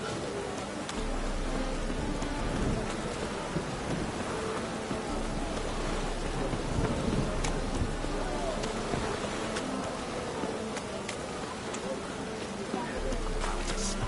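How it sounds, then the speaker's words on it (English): Steady rain pours down in The Witcher 3: Wild Hunt with a constant hiss, dense and close, with no clear thunderclap standing out. "Let it rain."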